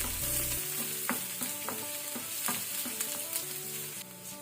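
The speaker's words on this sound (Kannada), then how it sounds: "ಇದನ್ನು ಸ್ವಲ್ಪ ಫ್ರೈ ಮಾಡ್ಕೊಳ್ಳುವ ಮೀಡಿಯಂ ಟು ಹೈ ಫ್ಲೇಮಲ್ಲಿ." Garlic and ginger fry in hot oil over a medium-high flame for a squid stir fry, a steady close sizzle broken by occasional spatula scrapes and stirring knocks.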